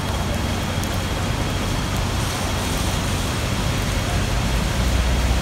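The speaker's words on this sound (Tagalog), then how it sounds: "Pumapatak na naman ang ulan sa bubong ng bahay" Steady, dense patter of rain drumming on a roof, a continuous hiss with no voices.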